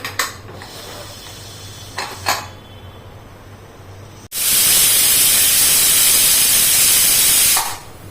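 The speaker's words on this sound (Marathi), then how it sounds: "हे बघा इथे दोन शिट्ट्या झाल्या आहेत" A kitchen pressure cooker on a gas stove suddenly lets out a loud, close, steady hissing whistle of steam lasting a few seconds, following quieter clinks of utensils.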